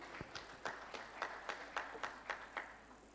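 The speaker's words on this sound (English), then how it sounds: "A round of applause for him once again" At a stakeholders summit, a few hands clap for a retired customary court justice in a quiet, evenly spaced run of about ten distinct claps.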